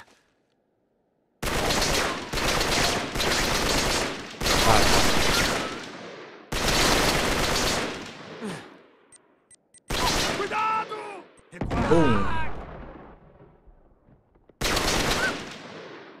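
AK assault rifle fire in the video game Uncharted 3 comes in several loud, close automatic bursts separated by short pauses, with game sounds and a few other effects between the volleys.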